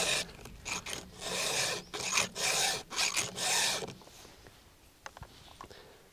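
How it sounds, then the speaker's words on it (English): Hand file sharpening a chainsaw cutter with several light rasping strokes in a quick rhythm, close and fairly quiet, followed by small clicks and scrapes. "We're going to go through and we're just going to give it a few light strokes."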